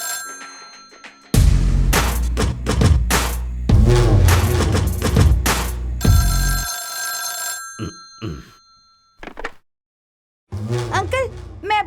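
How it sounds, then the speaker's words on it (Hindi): A telephone rings amid loud dramatic music and voices, the ringing briefly standing out before talk resumes. "फोन बज रहा है"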